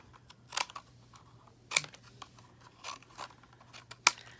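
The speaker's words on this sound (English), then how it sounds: "I'm going to just cut these tips off." Scissors snipping the tips off paper pieces for a DIY finger spinner, several crisp separate cuts spaced irregularly, close and fairly quiet with no talking.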